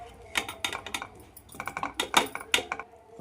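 A spoon stirs and scrapes through potato curry in a metal pan, giving a series of sharp clinks and scrapes in irregular bursts, close up with no talk.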